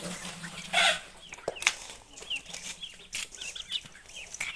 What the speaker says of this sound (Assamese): হাঁহ পোৱালিটোৱে খাবলৈ আহি গৈছে